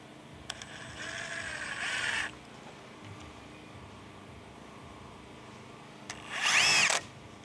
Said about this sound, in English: This Milwaukee drill